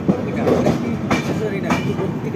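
A Bhilai shed MEMU electric train at Raipur Junction rumbles past with rhythmic wheel clatter over rail joints and a few sharp clanks, fairly close and continuous.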